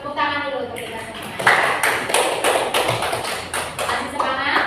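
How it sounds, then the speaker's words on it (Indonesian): Hands clapping in a classroom as a group applauds together, a run of sharp, rhythmic claps that keeps going steadily for several seconds at close range, with no talking over it. "Tepuk tangan dulu untuk kita semua"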